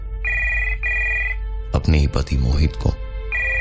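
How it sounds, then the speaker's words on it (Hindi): An intercom telephone rings in clear repeated double bursts, a pause, then speech cuts in before the ring resumes near the end. "उस इंटरकॉम वाले फोन से अपने 498 वाले कमरे पे फोन किया"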